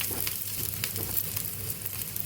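Ingredients for Maharashtrian thecha sizzling as they are sautéed in a pan, a steady crackling fry with occasional brighter spits, fairly quiet and close, with no talking.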